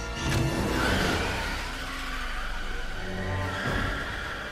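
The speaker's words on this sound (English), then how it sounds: "Tree rams into the car behind her, then shifts gears and drives away" A car revving and accelerating as it reverses, slams into a car behind it, then shifts gear and speeds off, with engine roar and tire noise throughout a tense chase scene.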